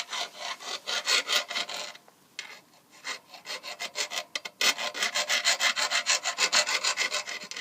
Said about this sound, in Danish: Så skal du file den rundt, sådan,